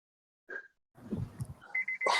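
A car's seatbelt warning chime sounds as a steady tonal beep late in the clip, following a brief earlier tone and some low rumbling and movement noise inside the vehicle.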